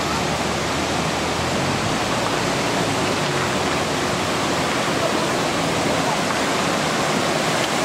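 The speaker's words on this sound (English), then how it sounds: "This is the creek right down the street from my house." A flooded neighborhood creek during the Nashville flood, rushing water making a loud, dense, unbroken roar that fills the whole stretch, close by and steady with no voices over it.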